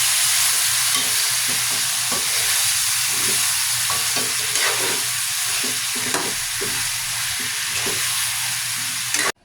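Pork ribs sauté in a pan with a loud, continuous sizzle and repeated scraping stir strokes, close and steady for several seconds without talk.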